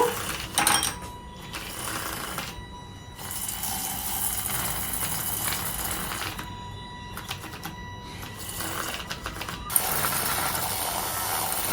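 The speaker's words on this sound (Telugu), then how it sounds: "ఇంకా కాఫీ మిషన్ ఆన్ చేస్తున్నా" A home coffee machine runs with a mechanical whir and ratcheting clatter, broken by short pauses and a sharp click near the end.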